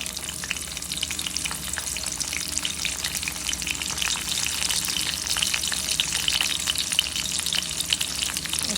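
Ingredients for tomato chutney frying in oil, a loud, dense, continuous sizzle with fine crackling that holds steady throughout.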